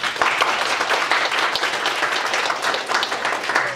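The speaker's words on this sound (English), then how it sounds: "Let's give her and them a round of applause." Loud, sustained audience applause at a university panel on free speech on campus, many hands clapping in a thick, even roar for nearly four seconds.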